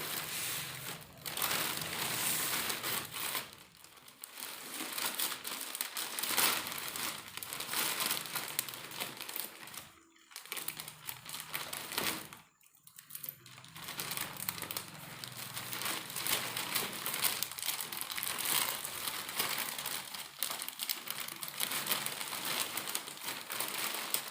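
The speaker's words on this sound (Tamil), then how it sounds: "இப்போது இதை பிரித்து பார்க்கலாம்." A delivered parcel holding a triply kadai is torn open, with continuous crinkling and crumpling of plastic wrap and packing close to the mic, interrupted by two brief pauses.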